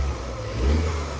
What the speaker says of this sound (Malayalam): ഇതിൻ്റെ ടർബോ ഒരു ബ്ലോ ഓഫ് ചെയ്ത് നോക്കിക്കോണേ കേട്ടോ.